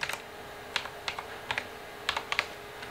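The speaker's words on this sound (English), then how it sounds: "I want to type in Sophie." Someone types text on a computer keyboard, making a short run of light, close key clicks at an uneven pace in a quiet room, without talking.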